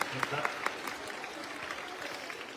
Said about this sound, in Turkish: Arkadaşlarımıza bir alkış alalım.